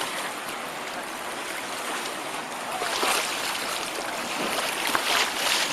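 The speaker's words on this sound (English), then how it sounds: "Lots of debris going down the river today." Debris-laden, swollen river flowing past a bank in a Southwest Virginia state park, a constant loud rushing wash of water with gentle surges and no voices.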